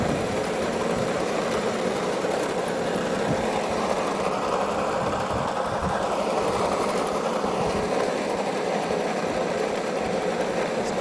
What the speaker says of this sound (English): It's pretty good to be mowing this though.